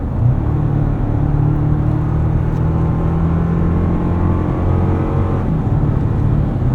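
Engine hum and road rumble from a 2024 Toyota Tacoma Limited pickup with the i-FORCE Max hybrid powertrain, driven in Sport Plus mode on a twisting road; a steady, loud drone with shifting engine tones and no talk.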